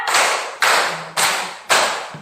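Four sharp hand claps from children at an even, steady pace, each ringing briefly in a reverberant room, with no voices.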